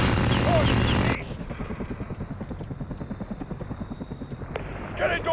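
Helicopter in the Modern Warfare video game, a rhythmic rotor thump that carries on steadily after a burst of loud combat noise at the start, with a brief swell of noise near the end.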